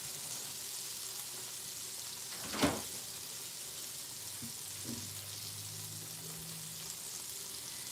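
Food frying in an uncrowded pan, a steady sizzling hiss throughout with a louder crackle burst near the middle and a few smaller pops later, fairly close and with no talking.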